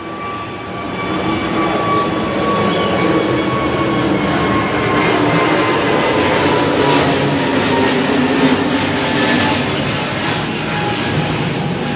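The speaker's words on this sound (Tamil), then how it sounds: "ஏரோப்ளேன் போயிட்டு இருக்கு." An airplane passes overhead, a steady, loud, broad roar with a faint whine that holds for the whole stretch, with no one talking.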